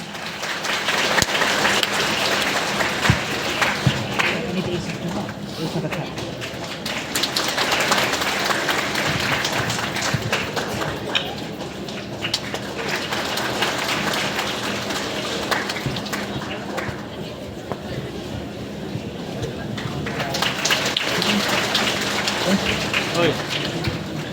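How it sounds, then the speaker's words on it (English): A church congregation claps hands for an auxiliary bishop at a Khasi gathering in Shillong, a long rain-like wash of many hands swelling and easing, with voices mixed into the noise. "Let us clap all our hands."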